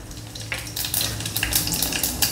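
Cumin seeds drop into well-heated oil in a kadhai and start crackling, a close sizzle that swells after the first half second with quick popping bursts, alone without voices.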